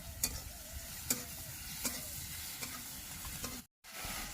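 Long-sliced tomatoes with a pinch of salt frying in a pan, a soft steady sizzle punctuated by a few sharp stirring taps, with a brief dropout near the end.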